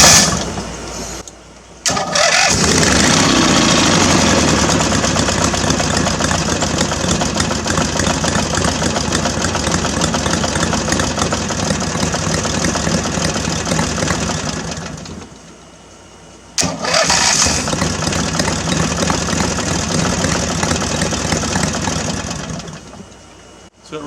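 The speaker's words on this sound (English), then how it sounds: "Let's see what it sounds like cold start." A small homemade boat motor cold starts, sputtering to life and running loudly for several seconds in a yard, cuts out briefly, then fires up again and keeps running close by.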